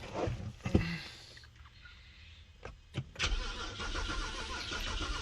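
A BMW 325i with a crank-no-start fault turns over in short bursts, the starter churning between quieter pauses, close up with no spoken voice.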